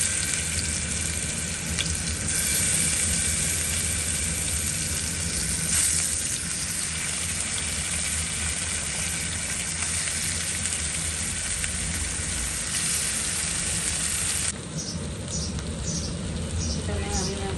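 Tuna pieces fry in hot mustard oil with a steady, loud sizzle that runs throughout, with a voice speaking over it.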